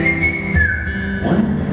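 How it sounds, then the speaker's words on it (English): A live concert audience whistles a short tune together, a few wavering pitched notes sliding up and down over faint crowd noise. "I'm going to teach you the whistle part"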